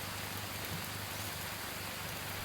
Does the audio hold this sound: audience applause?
no